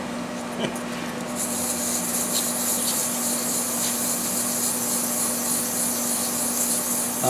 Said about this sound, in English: Use 400 grit until you've removed all the deep scratches.